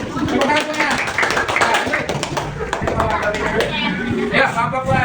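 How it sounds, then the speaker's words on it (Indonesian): A group of schoolchildren clap together in a classroom during a lesson, a dense, steady patter of hand claps that runs the whole time under a teacher's voice and children's chatter. "Tepuk tangan semuanya."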